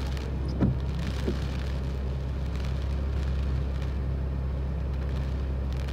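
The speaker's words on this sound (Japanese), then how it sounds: "風が吹いていて雨も降っております。" Strong typhoon wind and heavy rain on a moving car driving through Ginowan, Okinawa, form a constant loud roar of engine, road noise and rain washing over the vehicle, with a couple of brief thumps early on and no talk.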